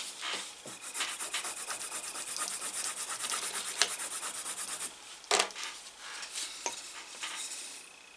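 A leather edge beveller being stroked back and forth on a strop loaded with white compound, a close, steady scratchy rubbing with brief pauses and a couple of light taps.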